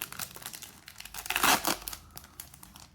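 Crinkly foil wrapper of a Pokemon card booster pack being torn open by hand, close and soft, a run of crackling rips peaking in one sharper tear.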